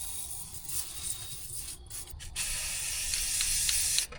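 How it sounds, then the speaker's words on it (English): Aerosol spray can hissing onto the throttle pivots of a 1978 Kenworth K100 cabover truck, a steady close-up spray in short bursts with brief gaps, rising to a longer continuous blast before cutting off. "Let's spray that down. Go ahead and hit all the throttle pivots"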